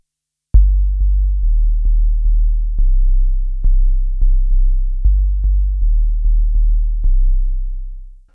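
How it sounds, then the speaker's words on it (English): A vintage Octave Cat synthesizer plays a deep 808-style bass tone: a series of booming low notes, each with a sharp attack and long sustain, loud and alone without any voices. "that's probably the easiest 808 style tone I've ever created on any synth"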